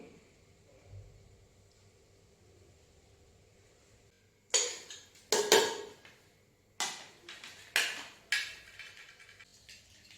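Potato pieces set down onto a metal plate give a handful of bright, ringing clinks in an irregular sequence, each a sharp metallic tap with a short decay, close and clear against a quiet room.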